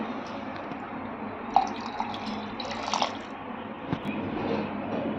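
Water splashes and drips quietly as a bowl coated in butter is rinsed and the water is poured into a mixer jar in a home kitchen. Small clinks and pours come close but faint, with no talk.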